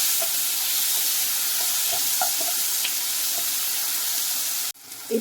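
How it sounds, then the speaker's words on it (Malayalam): Spices being dry-roasted in a pan for an onion-and-tomato chutney, a steady soft sizzle with occasional light scrapes and clicks of stirring, ending with a brief clatter. "അതിലേക്ക് കാന്തിക്ക് ആവശ്യമായ എല്ലാ സാധനങ്ങളും വറുത്തെടുക്കാൻ പോവുകയാണ്"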